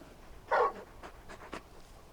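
Torgal, the large wolf-like dog in Final Fantasy XVI, gives a short whining bark and then quick breathy pants and soft whimpers, close and fairly clear with no talking.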